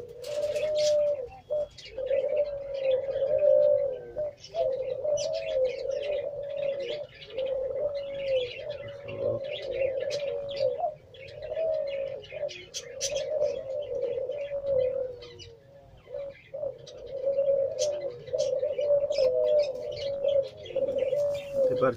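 Teddy pigeons in Pakistan coo steadily and close by, a repeated soft warbling call with occasional chirps, going on nearly without pause and heard alone without talk.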